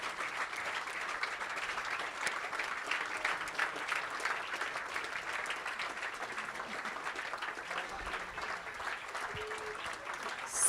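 Sustained crowd applause at a launch event as team members step in front of the audience; even, continuous clapping at moderate distance with faint voices mixed in.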